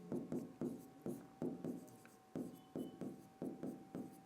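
Pen writing notes by hand on paper during a Hindi physics lesson on lenses and optics, a steady run of short scratchy strokes in quick bursts, close and fairly soft, with no talk over it.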